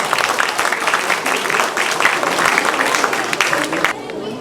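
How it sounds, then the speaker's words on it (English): Applause for carol competition prize winners at a Christmas carols event fills the hall, a dense steady clapping from a large audience that carries on throughout and thins out near the end. "Huge round of applause to all the winners."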